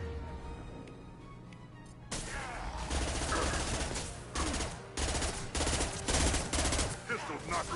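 Pistol gunfire in Mass Effect 2 combat, a string of sharp shots and rattling bursts over a low rumble, fairly close and dense after a quieter opening.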